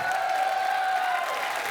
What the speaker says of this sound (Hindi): वाह, जोरदार तालियों से स्वागत कीजिए